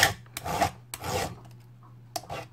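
A hand file rasps across the rakers of a chainsaw chain in short, separate scraping strokes, about four of them, loud and close, with brief pauses between strokes and a faint steady hum underneath.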